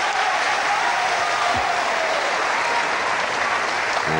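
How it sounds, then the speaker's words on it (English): A packed sports centre in Crawley fills with sustained applause from a wrestling crowd, a dense, steady wash of clapping with no break across the whole stretch. "And there's an appreciative crowd there."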